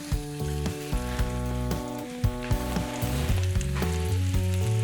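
Pork fillets sizzle and fry in a little oil in a pan over medium heat, a steady crackling hiss with small pops, while tonal music plays underneath throughout.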